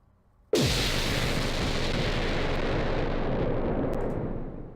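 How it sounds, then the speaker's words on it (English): A deep explosion effect from an electronic song's beat, built with dubstep-style distortion, bursts in suddenly after a brief quiet moment and rolls on as a thick, loud, sustained roar that slowly fades. "for the explosion, which is my favorite part of the song"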